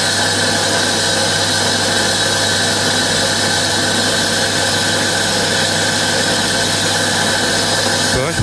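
A wet stone saw cutting through agate gives a loud, sustained high-pitched squeal over a steady motor drone, unbroken for several seconds before a brief change at the very end.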